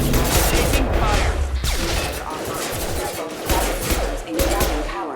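Sustained, chaotic gunfire in a firefight in the Mass Effect 2 video game, loud and unbroken, with impacts and crashes mixed in and voices talking over it.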